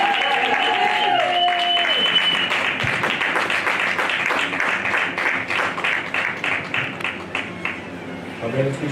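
A church congregation at a French-language worship service applauds in praise of God, with a steady wash of clapping that thins into distinct rhythmic claps, while a sustained tone fades out early on.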